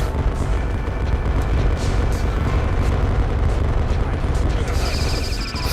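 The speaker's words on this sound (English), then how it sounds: "Let's get Clutchy to drop the bombs" Bombs explode in a tower defence video game as a dense, continuous roar of blasts and rumbling booms, loud and sustained throughout, with a voice talking over it.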